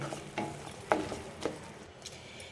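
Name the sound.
stirring grated carrot with khoa kheer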